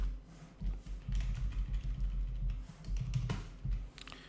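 Someone types on a computer keyboard while filling in a PHP and MySQL web form, a close run of quiet, uneven key clicks and taps with no talk.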